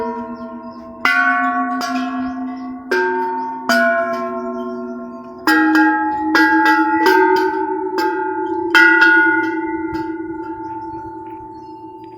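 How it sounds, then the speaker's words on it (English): Temple bell in a park struck repeatedly for luck, about nine clear metallic strikes at irregular intervals, each ringing out and overlapping as the tone lingers, close and loud with no talk. "we believe that after we ring the bell, yeah, we get luck"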